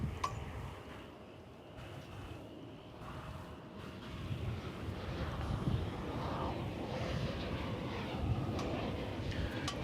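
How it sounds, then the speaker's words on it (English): Boeing Dreamliner airliner flying overhead at an airport, a faint, distant roar that swells slightly and holds steady, mixed with wind noise. "the Dreamliner to Miami is headed over the bridge to the east side"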